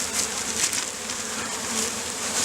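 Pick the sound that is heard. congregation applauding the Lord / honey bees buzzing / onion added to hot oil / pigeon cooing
honey bees buzzing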